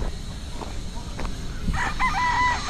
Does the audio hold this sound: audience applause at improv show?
no